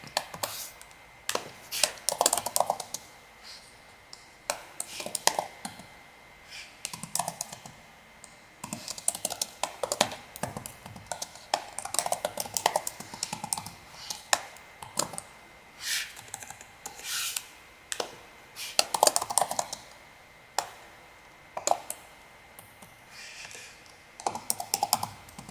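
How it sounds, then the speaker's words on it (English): Rapid typing on a computer keyboard, with close, uneven bursts of key clicks and brief pauses running throughout, alone without talk. "I'm just typing the poll right now"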